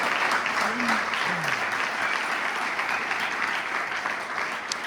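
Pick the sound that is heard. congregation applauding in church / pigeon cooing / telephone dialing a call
congregation applauding in church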